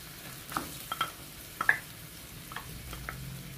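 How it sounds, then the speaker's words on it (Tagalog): Tomato sauce is stirred into homemade barbecue sauce in a pan for baby back pork ribs: quiet, close spoon clicks and taps over a faint, soft sizzle. "Time to mix in my tomato sauce"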